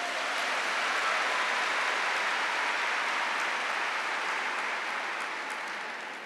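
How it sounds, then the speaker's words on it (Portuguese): A church audience at a Frei Gilson spiritual-combat gathering applauds, a soft, even wash of many hands clapping together, steady and fairly distant, fading a little toward the close. "Já aplauda a sua vitória neste combate."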